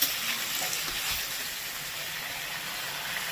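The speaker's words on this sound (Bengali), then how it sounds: "এবার দিয়ে দিচ্ছি পেঁয়াজ বাটাটা।" Onion paste goes into hot oil for a bata fish curry, giving a steady, moderately loud hiss and sizzle that holds evenly throughout without any talk.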